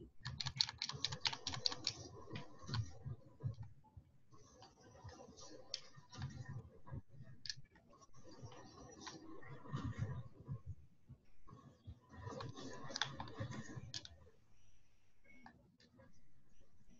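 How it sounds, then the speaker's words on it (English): Bursts of rapid keyboard typing, clicking in quick irregular runs with short pauses, close by, mixed with soft background voices. "I think I hear her typing."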